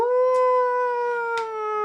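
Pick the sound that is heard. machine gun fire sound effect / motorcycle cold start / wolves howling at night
wolves howling at night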